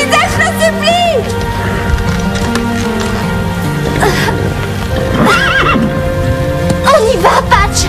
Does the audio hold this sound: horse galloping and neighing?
yes